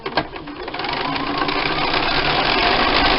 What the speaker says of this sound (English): nest these seams together down here and sew that with my scant 1/4 inch